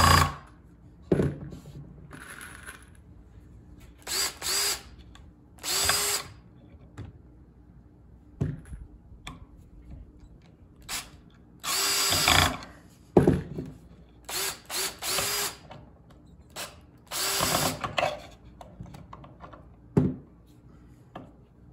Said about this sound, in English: I've got my drill clutch set on 13.